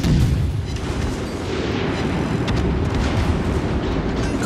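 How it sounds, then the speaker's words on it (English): Dense, continuous booming and rumbling from torpedo explosions in the naval combat game World of Warships Legends, loud and sustained throughout with no talking. "the torpedoes are devastating"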